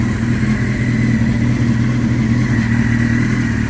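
A Honda CBR900RR Fireblade motorcycle engine runs steadily at idle after long neglect, a loud, close, even rumble that holds without change.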